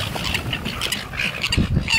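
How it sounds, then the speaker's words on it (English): Seagulls squawk in repeated sharp calls around a lake while ducks are fed, with a busy chorus of bird cries over steady outdoor ambience. "I think the seagulls have taken over."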